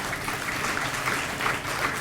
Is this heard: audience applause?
yes